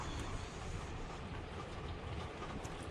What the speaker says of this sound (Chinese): 雨打在那个外面的车的那个